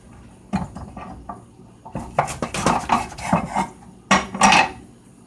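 A knife cuts through a soft, pitted avocado on a board while guacamole is prepared, giving a run of close, crisp taps and scrapes, some sharper knocks, with no talking.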